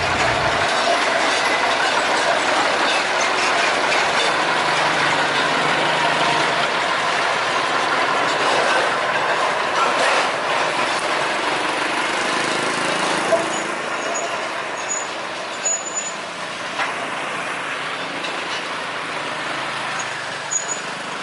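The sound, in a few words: Hokuriku sugar cane railway locomotive passing on rails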